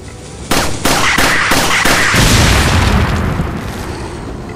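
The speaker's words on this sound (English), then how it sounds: "Oh great, dynamite throw, how annoying." Dynamite blast in Resident Evil 4, a quick run of sharp loud bangs followed by a heavy booming explosion whose rumble lingers and slowly fades.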